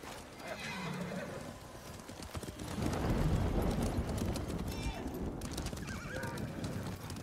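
A horse whinnies and snorts over a steady clatter of hooves in the video game Ghost of Tsushima, with game background noise throughout; the sound stays fairly close and loud.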